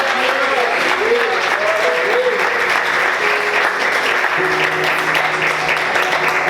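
A church congregation claps and praises during an evening worship service, sustained loud applause with sung or shouted voices and tones running through it from start to finish.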